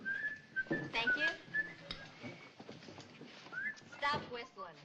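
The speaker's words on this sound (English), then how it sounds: "Stop whistling." A person whistles a few short, thin, wavering notes, quiet and close, with voices talking around them.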